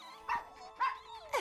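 Cartoon puppies from a Barbie animated adventure give three short, bright barks spaced evenly apart, moderately loud over a soft musical bed.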